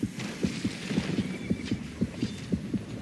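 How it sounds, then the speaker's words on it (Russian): A rapid, steady heartbeat from a video game signals that a shark is nearby, thumping in a regular double-beat rhythm over a low ambient hum, with no talking. "Если сердцебиение учащается, значит где-то рядом акулка плавает"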